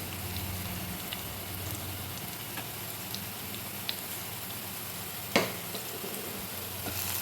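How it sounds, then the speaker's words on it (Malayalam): Spices for egg curry sauté in a pan, giving a soft, steady sizzle with faint scattered crackles and one sharp clink of a utensil midway. "ഇനി ഇതെല്ലാം കൂടി ഒന്ന് വഴറ്റിയെടുക്കാം"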